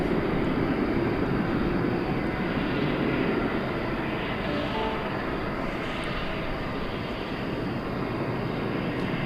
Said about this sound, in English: It's a turn of the century A300 from the year 2000.